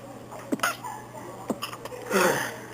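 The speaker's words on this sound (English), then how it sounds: "that was me sneezing." A few short, sharp bursts like a stifled sneeze, followed by a louder breathy sneeze near the end, all fairly close and quiet.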